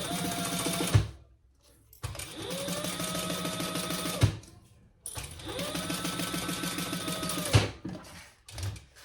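Sewing machine stitching a full seam allowance along zipper tape for a crossbody sling bag, running in three steady bursts of rapid mechanical whirring separated by brief pauses, close and loud.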